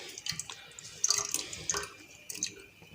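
Carrots go into a pot on the stove for a sweet preserve, producing scattered wet plops, drips and small splashes, soft and close.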